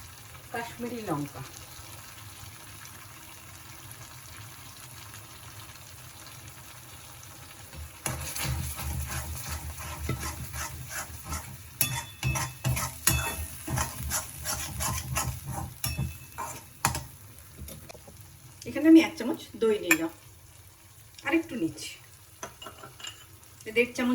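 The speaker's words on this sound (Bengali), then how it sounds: "নাড়তে থাকতে হবে নাহলে লেগে যাবে" Ridge gourd fries in a pan and is stirred with a utensil, giving a soft sizzle under repeated scraping and clattering strokes against the pan, louder and more frequent toward the end, with someone talking at times.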